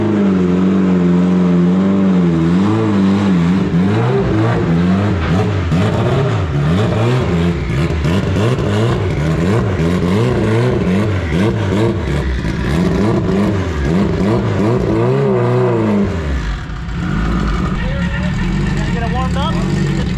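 A turbocharged race car engine being prepared for a PSCA race runs on a dyno, loud and close, revving up and down in repeated sweeping rises, dropping toward idle near the end.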